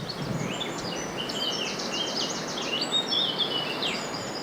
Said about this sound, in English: there is a blackcap in the distance